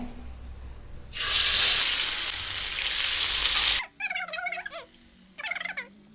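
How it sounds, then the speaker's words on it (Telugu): Fish dropped into hot oil bursts into a loud, close, steady sizzle for a few seconds, then cuts off abruptly, leaving brief warbling calls in a quieter room. "నూనె వేడైందే, చేపలే వేస్తా వదినే."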